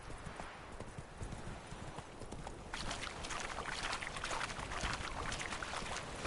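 The horse Roach gallops in The Witcher 3: Wild Hunt, its hooves beating a fast, steady clip-clop that sits fairly quiet under a wash of outdoor ambience and picks up partway through, with no voices.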